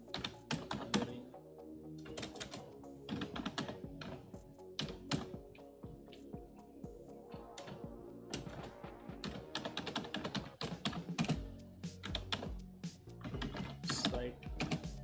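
Keyboard typing at a computer while entering a prompt, rapid clustered key clicks in bursts with short pauses, close and fairly quiet, continuing throughout.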